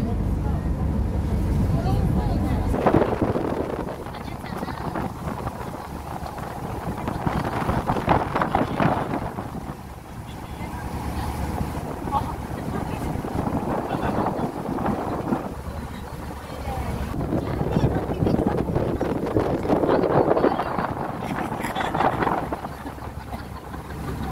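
Continuous boat engine rumble and rushing water with heavy wind buffeting the microphone on a boat ride to Half Moon Beach, steady throughout with swelling surges.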